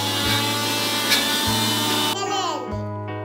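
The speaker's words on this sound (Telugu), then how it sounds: "దీన్ని మిక్సీ పట్టాలి" A kitchen mixer grinder whirs loudly and steadily while blending homemade paneer mayonnaise, cutting out and restarting in short pulses, and a voice is heard briefly near the end.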